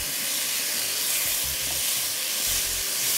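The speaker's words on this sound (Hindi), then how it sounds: "और जब तक हम चिकन पका रहे हैं" Chicken pieces seasoned with cumin powder, salt, crushed black pepper and garam masala frying in a tablespoon or so of oil, a loud, steady close sizzle with occasional stirring thumps and no talk.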